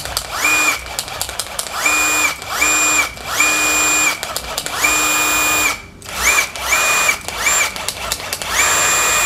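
A Tekiro CDID2071 20V cordless impact driver runs in repeated short bursts, its high motor whine rising and stopping about a dozen times with brief pauses between, loud and close.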